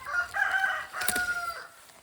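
Backyard chickens call near a garden, with short clucks followed by a brief crow-like cry, moderately close with no talking.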